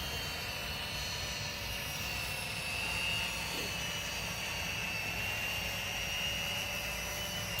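A Feilun FX176C2 GPS drone's motors whine steadily in flight, a constant airborne buzz with a faint high tone, held at a fairly even level throughout with no speech over it.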